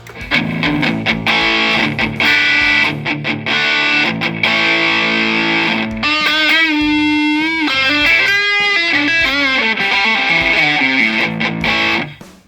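Loud distorted electric guitar through a Zoom G2X Four multi-effects pedal playing continuously, with gritty sustained chords and a brief run of single notes midway.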